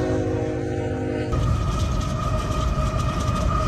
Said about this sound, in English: See how much fun you can have just racing a train?